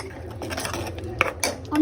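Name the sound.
sautéing spices in a pan for mutton kosha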